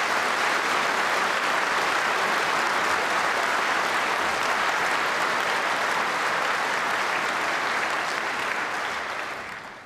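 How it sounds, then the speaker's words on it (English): Sustained round of applause from a large party conference audience, a thick, even wash of clapping that holds loud throughout and only begins to fade at the very end. "Please give all of them a good round of applause as well."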